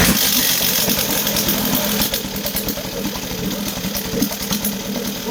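A Hangkai 3.6 hp outboard motor runs steadily just after starting, a loud, close, rapid buzzing chug that holds an even rhythm throughout, with a slight drop in level partway as the choke is pushed in.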